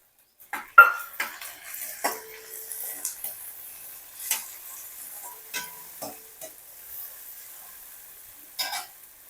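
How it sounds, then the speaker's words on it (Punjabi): Tomatoes dropped onto lightly browned onions in a frying pan, with scattered clinks of a utensil against the pan and a soft, quiet sizzle, no talking. "ਪਿਆਜ਼ ਆਪਣੇ ਹਲਕੇ ਬਰਾਊਨ ਹੋ ਗਏ ਨੇ ਹੁਣ ਆਪਾਂ ਇਹਦੇ ਵਿੱਚ ਟਮਾਟਰ ਪਾ ਦਿੰਨੇ ਆ"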